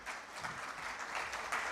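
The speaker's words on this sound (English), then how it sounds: "can we please give him a big round of applause?" Audience at a climate conference in Pakistan applauding a speaker, a quiet, continuous patter of many hands clapping that comes across distant and muffled.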